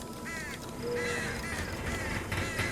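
Crows caw in a horror video game, The Mandus, with several harsh repeated calls at moderate distance over a dark ambient background.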